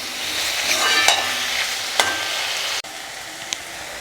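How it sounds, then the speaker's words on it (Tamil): Tomatoes and spices sautéing in a pan for mutton bone curry give a steady, moderate sizzle. Occasional scrapes and clinks of a stirring spoon sound over the frying, with no talking. "எல்லாம் சேர்த்து நல்லா வதங்கி வரட்டும்."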